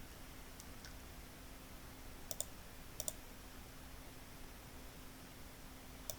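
A computer mouse gives a few sparse, faint clicks, single and doubled, over a steady background hiss in a quiet room while an Excel worksheet is being edited.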